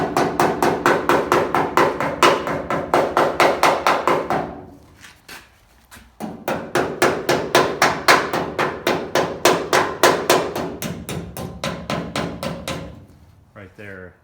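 A hammer strikes rusted steel on a Truck Craft dump body in rapid, steady blows. Close, sharp metallic hits come in two long runs separated by a short pause.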